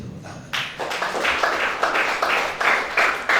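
Church congregation clapping during an Indonesian worship service with communion, a short burst of scattered hand claps starting abruptly and continuing unevenly, moderately loud.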